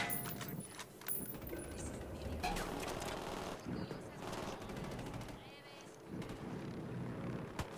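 Video game gunfire comes in bursts of rapid shots and single cracks against mixed game sounds, with someone talking over the action.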